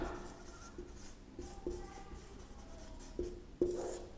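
Marker or chalk strokes on a classroom board while a tense chart is drawn up, soft scratchy rubbing in short bursts with small taps, fairly quiet and heard alone.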